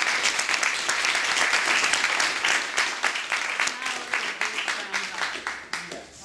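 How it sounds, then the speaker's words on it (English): A round of applause for 100-year-old Nita Brown at Mahon Hall on Salt Spring Island: dense, sustained clapping from an indoor crowd that thins toward the end, with some voices mixed in. "Something I would like to give you a big round of applause."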